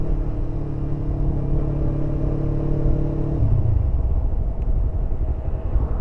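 A Yamaha R25 sport motorcycle engine running steadily nearby, with a low rumble that drops slightly in pitch partway through and no talking.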